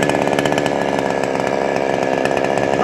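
A chainsaw runs loud and steady, cutting wood in a yard, its buzzing engine tone continuous and close throughout with no talk over it.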